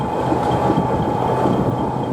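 A train pulling out of a railway station platform, a steady loud rumble of wheels and carriages running continuously with no voices.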